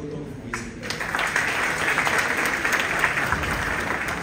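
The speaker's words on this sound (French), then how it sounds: "Je vous demande de applaudir autant que vous pouvez, s'il vous plaît." Audience applause at a children's and youth book fair in Dakar, a dense sustained clatter of many hands clapping that swells after the first second and holds steady, with faint talk underneath.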